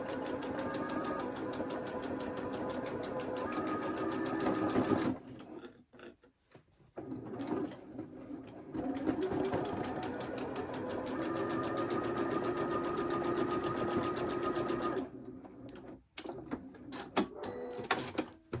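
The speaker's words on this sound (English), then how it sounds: "Sew 1/4 inch down the seam." A sewing machine stitching a quilt block seam for a folk star block, a loud close whirring run that stops briefly, resumes for a long stretch, then pauses again with small handling clicks.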